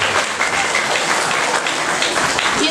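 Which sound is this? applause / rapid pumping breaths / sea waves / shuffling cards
applause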